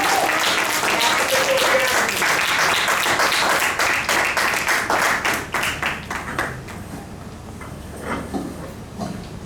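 Audience applause at an investment and repatriation conference in Ghana, a dense burst of many hands clapping that thins out and fades over the last few seconds, with some faint voices beneath.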